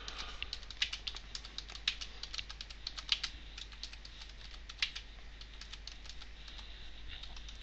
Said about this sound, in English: Speed typing is not my thing